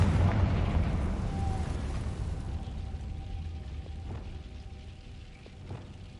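A Confringo blasting spell in Hogwarts Legacy sets off a loud, deep explosion at the start, followed by a long rumbling decay and a few faint pops and crackles.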